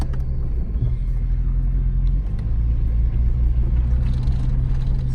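A Jeep Wagoneer rescued from a scrapyard drives along, its engine a low steady rumble heard from inside, holding nearly level with only a slight shift in tone.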